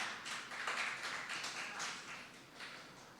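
A church congregation at a Tuesday prayer meeting claps in welcome, a soft, moderately dense patter of many hands heard at a distance in the sanctuary, rising briefly then easing off over about three seconds.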